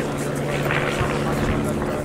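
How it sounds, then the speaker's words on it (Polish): A vintage 1940 aircraft built by Airspeed Limited in Leicester, flying at a Monte Cassino battle anniversary event: a steady, continuous engine drone at moderate distance, holding even without breaks. "Samolot wyprodukowany w 1940 roku w zakładach Oster Aircraft Limited w Leicester został specjalnie przygotowany do lotu na ten dzień."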